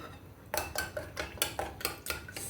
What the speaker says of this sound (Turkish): Sarımsakla güzel karıştırıyoruz.